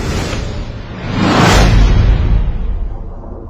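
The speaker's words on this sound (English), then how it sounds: "squadron leader Hassan fired air-to-air missiles" An air-to-air missile launch whoosh, a loud broad rushing roar that swells to a peak and then fades away with a deep rumble underneath.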